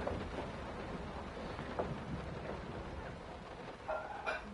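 Steady rain pours with a low rumble of thunder in a haunted house in the horror game Layers of Fear, a constant wash with a few sharper cracks and drips, moderately quiet.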